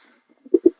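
A male racing pigeon gives two short, low coos in quick succession, close and clear after a near-silent start.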